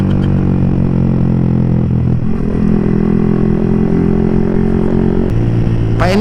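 A big motorcycle with an open exhaust pipe idles and revs steadily at close range throughout, the engine note shifting midway and rising in a sharp rev near the end.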